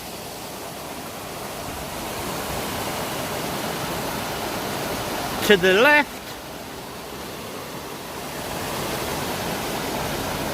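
Cole Brook flowing into Upper Furnace Pool at Coalbrookdale, a constant broadband rush of moving water throughout, with someone briefly speaking over it midway.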